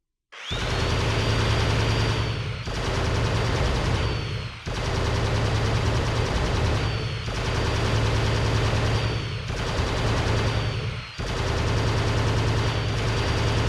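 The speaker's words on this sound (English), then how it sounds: "You have 90 seconds to destroy all the targets using the turret gun." A turret gun firing in The Terminator: Dawn of Fate video game, loud sustained bursts of rapid automatic fire, about five long volleys separated by short gaps, close and dominant with no talk.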